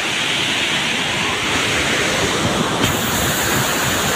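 A waterfall pours as a loud, dense, unbroken roar of rushing water, close and steady throughout, with a little wind buffeting the microphone and no voices.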